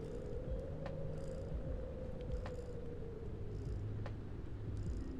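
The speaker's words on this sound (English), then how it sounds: "did I add, like, the cat purring?" A cat purr plays as a steady, soft, low rumbling loop under a snowy livestream setup, continuous and faint throughout with a few light clicks on top.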